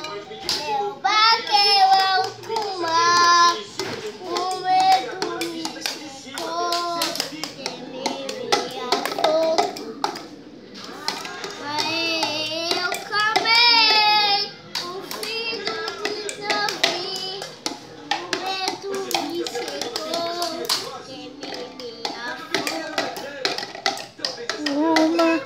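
Improvised drumming made by tapping and clapping hands, a steady rhythmic patter running under lively group singing in Portuguese, with children's voices among the singers.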